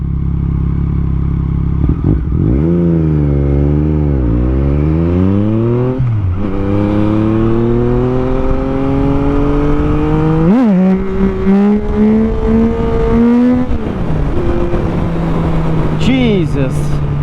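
A Yamaha MT-09 SP motorcycle with a flashed ECU pulls hard through the gears, its engine note rising steeply in repeated surges with brief dips at each shift, loud and close throughout with wind and some voice underneath.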